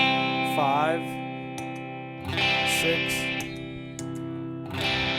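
An electric guitar played through a single pedal with a compressor setting, sustained chords and notes switching between tones in short bursts, with someone speaking briefly between them.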